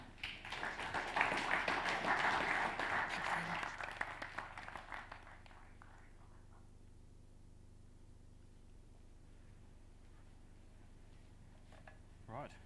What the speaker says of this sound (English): give a round of applause to Jamie Marshall-Roberts.